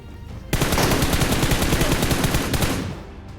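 Sustained burst of rapid automatic gunfire from an MK rifle in the PUBG Mobile battle-royale game, loud and close, starting abruptly and rattling continuously for about two seconds before cutting off.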